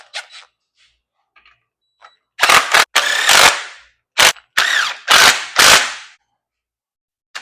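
A battery-powered electric tool removing nuts on a '66 Monaco fires loud, close, whirring bursts, about seven short runs in an irregular rhythm separated by quiet gaps.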